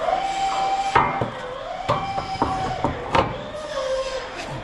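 A power drill drives a self-drilling Phillips truss head screw with a 1/4 inch washer into a Powerstep mounting bracket on a 1979–91 K5 Blazer, giving a steady motor whine that changes pitch, broken by sharp knocks and clanks.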